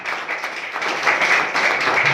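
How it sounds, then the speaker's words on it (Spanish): Applause from a church congregation, a dense burst of clapping that swells slightly louder after the first second and carries on steadily. "Den un fuerte aplauso a Cristo Jesús"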